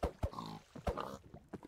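Pigs in the Minecraft video game give a few short, close grunting oinks in quick succession, with no talk over them.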